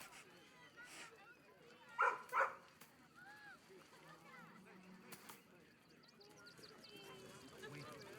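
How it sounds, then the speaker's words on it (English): A dog in the video game Baldur's Gate 3 gives a couple of short, fairly loud barks amid faint game ambience and soft sniffing, with quiet talk and other low sounds around it. "The dog sniffs your hand and seems more at ease."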